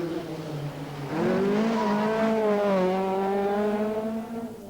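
A 1983 Circuit of Ireland rally car, an official 00 car, driving a special stage: engine note climbing through the revs, loud and close, held strongly for a few seconds before easing off slightly.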